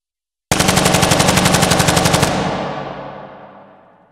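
A rapid synthetic machine gun burst, made in the Weaponiser sound design plugin, fires loudly for nearly two seconds, then a long echoing tail fades out.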